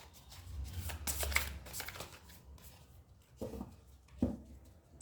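Tarot cards are shuffled and handled up close, giving soft papery riffles and slaps in uneven bursts, then a couple of quieter flicks as cards are drawn, faint and with no talking.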